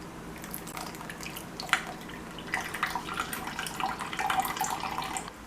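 Carrot and orange juice being poured and strained through a filter makes a quiet, close trickle and patter of liquid that swells gradually toward the end.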